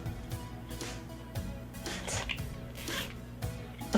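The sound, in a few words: zipper on a scarf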